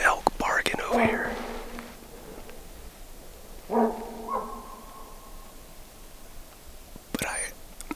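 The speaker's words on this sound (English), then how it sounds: "So there's an elk barking over here." An elk barks on a steep mountain hillside during a hunt, a few sharp calls standing out against quiet open air at a moderate distance, with a long pause between the bursts.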